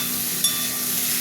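Spices and turmeric frying in a pan for a bhola fish curry with potato and eggplant, a soft, steady sizzle heard close up, brief and even, with no talking.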